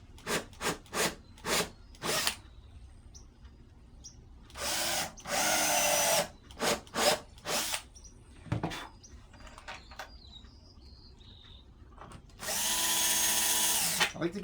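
A power drill drives screws into a wooden shelf in repeated short bursts, several brief whirs separated by pauses, with a couple of longer runs as screws are cinched tight, close and fairly loud.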